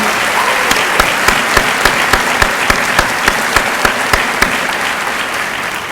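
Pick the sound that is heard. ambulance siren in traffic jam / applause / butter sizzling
applause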